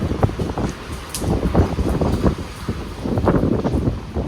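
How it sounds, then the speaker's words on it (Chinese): Strong north wind whooshes across a rain-soaked north-facing balcony during a typhoon, a steady loud rushing roar with gusty surges throughout and no talk. "可以听到外面呼呼的风声"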